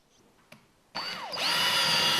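A power drill starts up loudly after a faint click, its whine dipping and rising as it bites into a thick car body panel, then settles into a steady high-pitched drilling.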